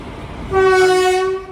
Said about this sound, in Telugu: ఇది వెంకటాద్రి ఎక్స్ప్రెస్ ట్రైన్ ఇది